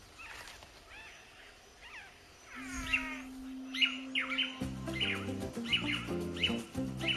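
Male manakins in the Atlantic Forest of Brazil give repeated sharp chirps and whistled calls, with a steady tonal note and a stuttering series of clicks and buzzy notes joining partway, set against a dense background of forest insects and birds.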